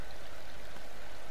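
Steady rushing water at the edge of the map in the game The Forest, a continuous broadband stream wash, short and even, with no voices.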